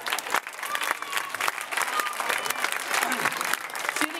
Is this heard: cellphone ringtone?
no